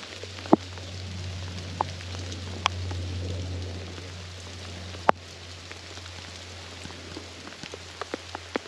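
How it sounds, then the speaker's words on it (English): Steady rain pattering on leaves and ground in a wooded area, a soft continuous hiss broken by occasional louder drips and drops close by, with a low hum underneath and no talking. "All right, it's officially raining."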